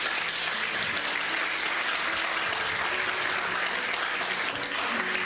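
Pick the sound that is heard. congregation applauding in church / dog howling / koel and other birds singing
congregation applauding in church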